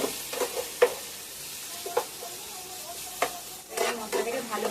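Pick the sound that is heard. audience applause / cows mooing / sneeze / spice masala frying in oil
spice masala frying in oil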